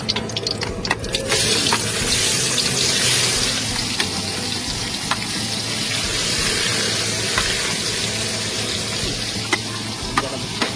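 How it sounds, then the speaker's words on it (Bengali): Fish coated in chili powder fries in a pan with a continuous loud hissing sizzle that runs the whole time, with a few sharp crackles and no talking. "মাছ ভাজা হচ্ছে, খাওয়া তো।"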